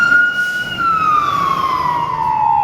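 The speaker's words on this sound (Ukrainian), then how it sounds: "машина поїхала перед пожарною." A fire engine siren wails close by on a city street, one long loud tone sliding slowly downward as the truck passes, with traffic rumble beneath it.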